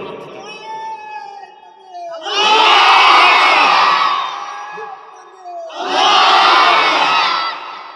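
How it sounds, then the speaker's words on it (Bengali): A large crowd at an outdoor religious sermon gathering roars a chant in two loud, sustained bursts, each lasting about two seconds, separated by a brief lull with faint talk. "আরো জোরে আওয়াজটা হবে, তাকবীর জোরে দাও কোনার থেকে।"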